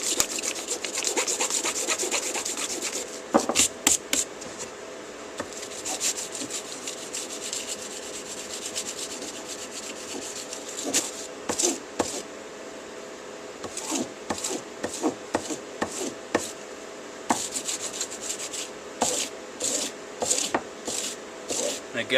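A low-Rockwell steel hatchet edge is worked against grit abrasive, giving close, repeated rasping strokes in irregular rhythmic bursts, with some pauses and steady scraping between them; no speech.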